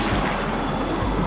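A sailboat motoring under engine power through open water in the Exumas, with steady low rumble blended into continuous wind and wave wash, no talk.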